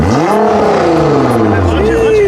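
A sports car engine with a new exhaust revs loudly with a throaty note, pitch rising and falling, while people talk over it.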